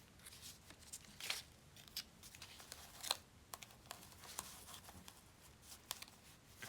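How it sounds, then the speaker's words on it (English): Scissors trimming paper for an altered book journal craft project, a series of quiet, crisp snips spaced irregularly, close and alone with faint paper rustling. "Let's do some trims here"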